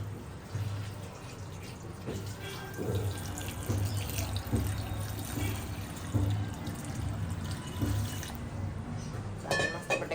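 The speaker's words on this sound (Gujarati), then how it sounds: "હવે બટેકાને ધોઈ લેવું" Halved potatoes are washed in water, with close splashing, sloshing and dripping under a running-water wash that continues throughout and no one speaking.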